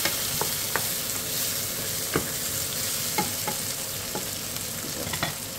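Garlic and ginger hit softened onions in a pan for a goat curry, making a steady close sizzle punctuated by scattered scrapes and taps as a utensil moves them around.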